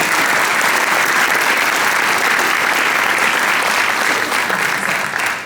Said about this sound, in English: I would appreciate a round of applause for it.